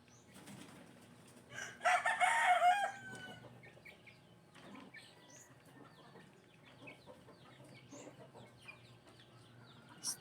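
Chicks and hens at midday feeding on a Philippine poultry yard, with a loud burst of clucking and cackling near the start, then scattered soft peeps, clucks and scratching in the background.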